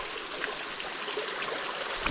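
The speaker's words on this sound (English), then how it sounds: "there's this beautiful little creek stream running right up here" A small, crystal-clear mountain creek in North Queensland, Australia, runs steadily with a continuous close-up babble and trickle of flowing water.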